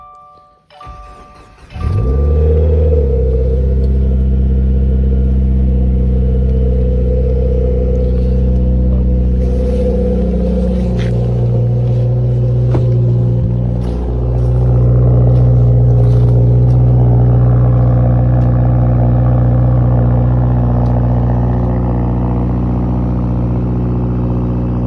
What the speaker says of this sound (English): A little cold start for you guys with the tomei.